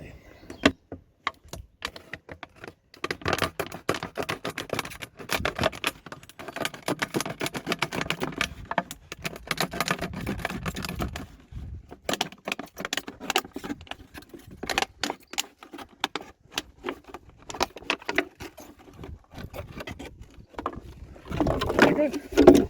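A large plastic water bottle being cut to make a garden cloche: irregular crackling snips and scrapes of plastic, close by, with occasional talk in between.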